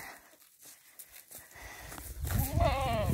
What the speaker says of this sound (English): That would be our new goat.